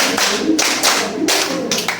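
Children in a classroom clap along in a teacher-led counting clap game, sharp hand claps landing in short rhythmic bursts separated by brief gaps, fairly close and clear.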